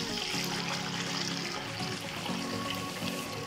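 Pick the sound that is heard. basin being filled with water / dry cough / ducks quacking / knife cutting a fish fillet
basin being filled with water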